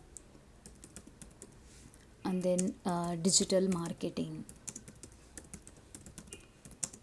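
Steady typing on a computer keyboard clatters in quick, soft bursts throughout, with a short stretch of speech in the middle briefly sitting over the keystrokes.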